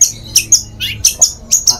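A long-tailed shrike (cendet) gives rapid sharp chirps and squawks, about eight bright bursts in under two seconds, loud and close with a faint low hum beneath.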